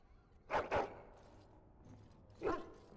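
Dog barking in the Dragon Age Origins Awakening fantasy video game, two quick close barks in succession, then a single bark after a pause, fairly loud against quiet background.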